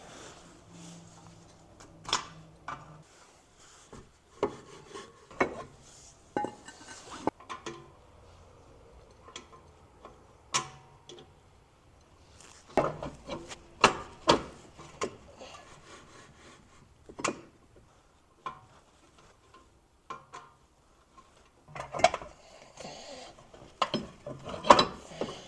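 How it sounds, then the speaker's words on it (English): Star adjuster on the rear drum brake of a BMW E46 being turned by hand, irregular ratcheting clicks and scraping in short bursts with quiet pauses, close up and without talk. "So the way that this star adjuster works is you turn it and it extends the drum brake out."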